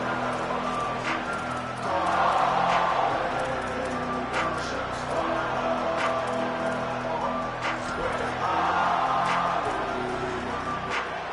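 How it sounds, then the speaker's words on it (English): Stadium crowd at an American football game, a broad steady roar that swells louder in two surges, with a commentator's voice running underneath the noise of the stands. "This crowd ready to make its presence known."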